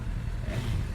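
A 2018 BMW S1000 RR hyper sport motorcycle, K46 generation, engine running with a steady mid-range rev, close and fairly loud for about a second, with no talk over it.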